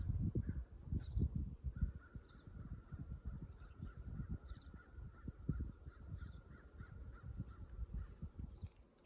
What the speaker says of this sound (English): Can you hear the crow?